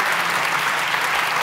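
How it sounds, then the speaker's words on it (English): A brief burst of enthusiastic audience applause at a TEDx Munich inventors awards event, dense and continuous clapping heard close, with no voices. "And now, please give a big applause to Wemund Karstad."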